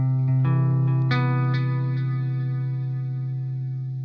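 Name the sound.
clean electric guitar, Diezel Einstein, delay, reverb, chorus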